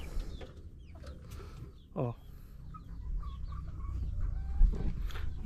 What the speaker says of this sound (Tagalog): Dito na tayo sa ating mga manok na nangingitlog